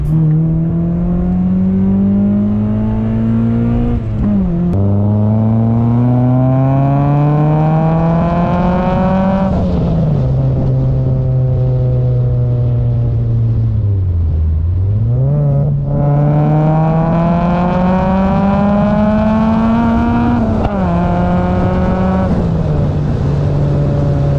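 A Honda Prelude VTEC engine revs up and down repeatedly, climbing past 5000 rpm to a loud, high-pitched wail as the cams change, before dropping back, with no voices.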